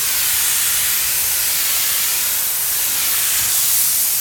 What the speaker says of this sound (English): we'll actually come and spray.